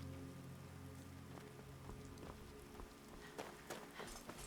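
Rain falling at night in the video game Skyrim, a soft steady patter of drops on surfaces with a few sharper ticks, quiet and continuous.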